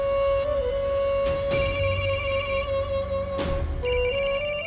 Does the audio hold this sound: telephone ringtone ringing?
yes